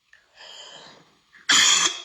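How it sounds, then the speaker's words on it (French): A woman coughs in a burst: a softer throat-clearing rasp first, then a loud, harsh, close cough that ends the moment. "la toux là te dérange"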